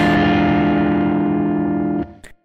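A single 7 flat 9 chord struck once on a distorted electric guitar with an effects unit, ringing out loud and sustained for about two seconds before being muted, followed by a couple of faint string noises.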